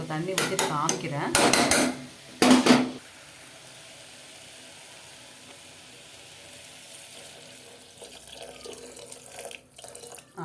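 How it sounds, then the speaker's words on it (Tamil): Water is poured into a steel pressure cooker while a brinjal bhaji curry is cooking: splashy pouring and metallic clanks in short bursts over the first few seconds, followed by a quiet kitchen hum. "உங்களுக்கு தண்ணி ஊற்றி காமிக்கிறேன்."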